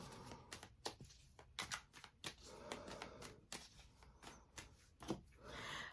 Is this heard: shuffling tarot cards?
yes